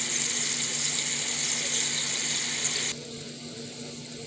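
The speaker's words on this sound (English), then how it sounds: "I'm going to drain the water out" Water drained from a pan pours steadily for about three seconds, then cuts off, leaving a quieter hiss.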